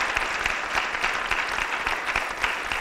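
Polite audience applause for a forum committee and panelists at a sustainability conference, a dense, steady patter of many hands clapping close by throughout, with no voices over it.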